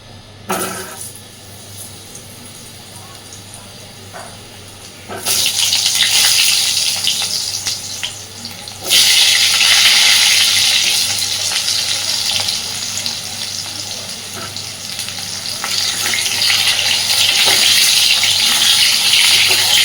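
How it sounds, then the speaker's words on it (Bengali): Potato pieces for a stingray fish curry go into hot oil: a quiet stretch, then a loud sizzling rush bursts in and surges again moments later, staying dense and continuous to the end. "তেল সুন্দর গরম হয়ে গেছে, আলুগুলোকে দিয়ে দেব।"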